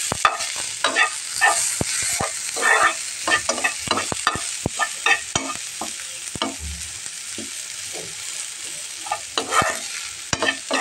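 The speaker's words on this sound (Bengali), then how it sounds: "এখন পেস্টটাকে একটুখানি হালকা করে ভেজে নেব" Dried shrimp paste sizzles in a pan while being stirred, steady frying hiss broken by frequent scraping and clicking strokes of the spatula, close and clear with no talking.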